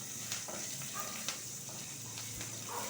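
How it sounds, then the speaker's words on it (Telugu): Chopped ginger and dried red chillies frying in hot oil as a tempering for fenugreek-leaf dal, a soft, steady sizzle with occasional faint pops and stirring taps, quiet and with no talking. "అల్లం చిన్న చిన్న ముక్కలు, ఎండుమిరపకాయ. ఇది ఎర్రగా వేపుతాను."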